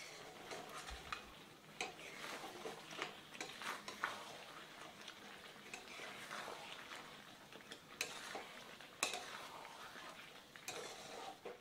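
A spoon stirs chicken malai masala in a pan, scraping and clinking softly against the metal over a faint sizzle. The sound is quiet and close, with irregular strokes and no talking.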